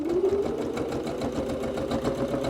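A sewing machine runs continuously, stitching a pocket in half on a cosmetic bag, its steady motor hum and rapid needle clatter holding an even rhythm close up for the whole stretch.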